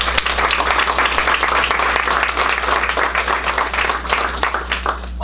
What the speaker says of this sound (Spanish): les voy a animar a que se den todos ustedes un buen aplauso